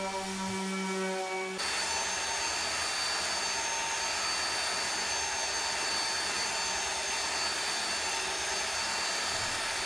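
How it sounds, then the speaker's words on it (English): An electric sander starts with a clunk and then runs steadily, a loud continuous whir and grinding buzz against the outside of a wooden keepsake box of padauk and tiger maple for several seconds. "The outside of this box is extremely easy to sand if you just let the sander do the work for you"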